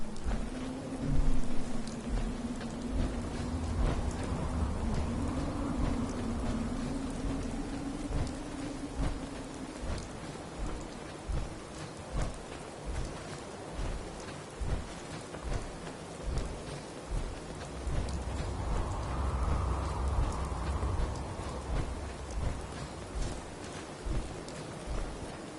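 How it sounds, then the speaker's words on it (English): Steady rain falling with low rolling thunder during a storm in the video game Fallout 4, a continuous wash of drops with rumbles swelling near the start and again later, no voices. "Hope this rain lets up soon."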